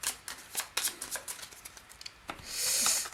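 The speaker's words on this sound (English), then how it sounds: "Okay, now we do shuffle." A deck of cards is shuffled for the Aeon's End board game, quick riffling and flicking close by, then a longer soft rushing bridge at the end, fairly quiet and without speech.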